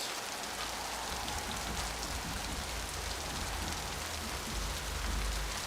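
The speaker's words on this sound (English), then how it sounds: "Turn down the volume a little bit because it's still a bit loud with the rain" Steady, fairly loud rainfall with a broad, even hiss of drops on surfaces, continuous throughout with no voices.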